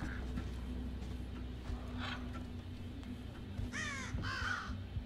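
A crow caws twice in close succession late in the scene, harsh and fairly clear, over a low ambient hum in the Thief stealth video game.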